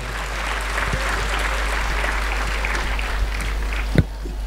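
An audience applauds for a speaker at an organ-donation awareness talk at a rural technical campus in Nanded, a dense, steady burst of clapping from a crowd with a constant low hum beneath.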